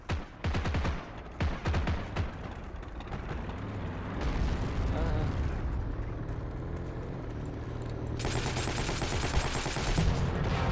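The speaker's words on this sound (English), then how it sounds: "I'm getting shot at." Heavy gunfire in the World War II shooter Heroes and Generals: repeated loud bursts of automatic weapons and rifle shots, close and distant, rattle almost continuously with rumbling blasts beneath.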